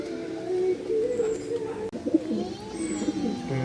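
Pigeons coo steadily in a low, rolling murmur inside a loft, several birds overlapping nearby with a few faint chirps above.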